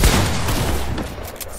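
A bomb shotgun blast in Fortnite, a loud booming discharge at the start that trails into a rumbling, crackling decay with scattered gunfire-like noise.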